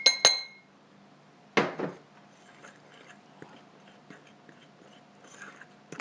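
Scone ingredients being mixed in a bowl in a home kitchen, with a few sharp clinks and scrapes of utensil against bowl, two louder knocks early on, then quieter scattered tapping.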